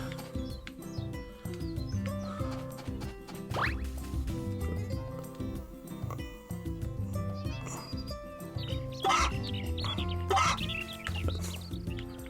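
Chickens clucking in the farming video game Story of Seasons: A Wonderful Life, repeated short clucks and chirps over a busy game music bed, fairly steady with livelier bursts toward the end.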